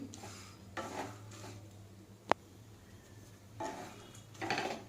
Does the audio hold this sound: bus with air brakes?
no